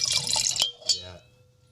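Wine splashes and gurgles into a glass in a short, close pour that tapers off and ends after about a second.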